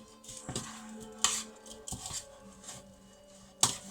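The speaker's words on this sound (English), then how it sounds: "let's just mince it up really" A knife minces keema meat on a board, producing several sharp, irregular chopping knocks and clatters at close range over a low background, with no speech.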